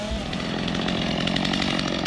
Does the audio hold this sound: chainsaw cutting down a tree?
yes